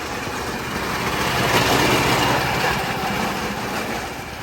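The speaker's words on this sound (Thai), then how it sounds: "รถต๊อกนะวิ่งผ่านสถานีรถไฟเชียงรากนะครับ" A train rumbles steadily past Chiang Rak railway station in Thailand with a continuous rolling roar and faint wheel clatter, swelling slightly in the middle, with no voices.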